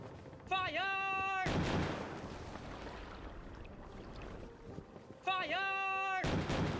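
Cannons fire from a pirate ship at sea in a video game, two heavy booming blasts each rolling into a long noisy rumble, with a shouting voice just before each shot.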